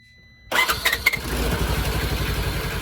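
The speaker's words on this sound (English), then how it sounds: "So Aiden, go ahead and fire her off for me. Start her up" A 2015 Polaris Ranger 900XP utility vehicle engine cranks and catches abruptly after a short silence, then settles into a loud, steady rumbling idle close by, with no talk over it.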